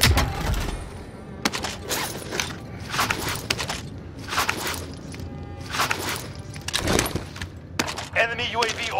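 Bullfrog submachine gun firing in a first-person shooter, loud bursts of rapid shots repeating through the clip with footsteps and other game noise in between.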